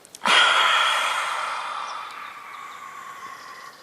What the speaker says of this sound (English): And then exhaling the lion's breath.